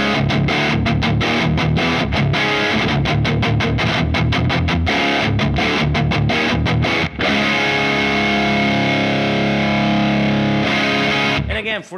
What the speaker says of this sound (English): for his rhythm tone, an over-the-top, Marshall-oriented sound